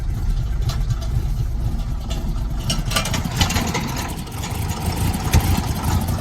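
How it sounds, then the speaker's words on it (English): An old tractor's engine runs at open throttle on a Northern Alberta farm while hauling canola, a steady rough mid-pitched drone with a throbbing pulse, loud and close throughout. "This tractor's not used to working, hasn't been working in a while."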